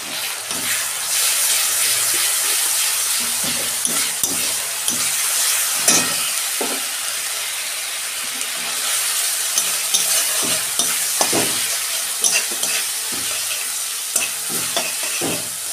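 Sliced onions frying in a pan with ginger garlic paste added, a steady close sizzle broken by repeated scrapes and knocks of a spoon stirring, with no talk.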